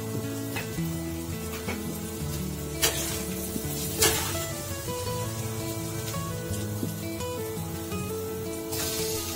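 Crushed onion, garlic, ginger and green chili fry in hot oil while being stirred, a soft continuous sizzle with occasional sharp clinks of the spoon against the pan over a steady humming background.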